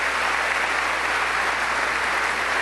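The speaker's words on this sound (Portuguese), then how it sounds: "Uma salva de palmas forte" Loud, dense applause from a church congregation, a continuous even roar of clapping hands throughout with no talking.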